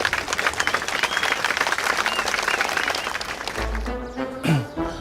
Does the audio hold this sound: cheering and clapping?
yes